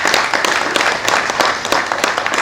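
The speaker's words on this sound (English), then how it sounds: "members, I think they deserve a round of applause for that" Steady audience applause during a House Committee on Defence visit to Defence Headquarters, with many people clapping in a full, even wash and some individual sharp claps standing out close by.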